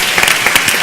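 Audience applause at a conference panel session, a brief burst of dense clapping filling the room.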